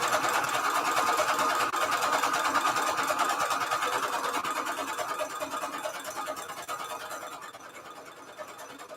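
Sewing machine stitching around an old book cover, a steady fast mechanical whirr with rapid needle chatter running without pause and easing slightly quieter toward the end, close and alone.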